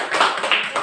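Pupils in an Indonesian classroom clap for group 3, a brief run of about three soft, close claps.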